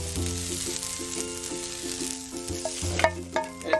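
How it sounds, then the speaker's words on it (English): Onion and broccoli are stir-fried in a pan for a chicken and vegetable dish, a quiet sizzle under a steady tonal hum, with a few sharp clatters of stirring near the end. "Stir fry, onion and broccoli."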